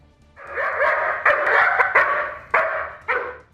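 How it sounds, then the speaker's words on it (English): A dog barks a warning at would-be robbers near a fence, a string of loud, close barks with sharp onsets and rough, raspy tone, about five bursts over a few seconds. "the dog barked a warning"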